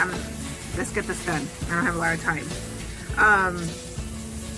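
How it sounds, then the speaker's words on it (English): Lawn sprinklers come on with a soft, continuous hissing spray in the background, running under someone talking close by. "My sprinklers are just turning on."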